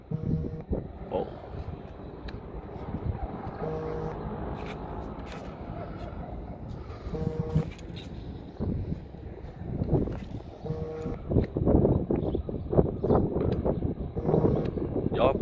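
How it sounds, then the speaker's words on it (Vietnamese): Strong wind buffets a microphone outdoors during a DJI Mini SE drone wind test, producing low, gusty rumbling that swells and fades and grows heavier toward the end. "Tôi đứng đây mà gió nó vù vù vù vù luôn."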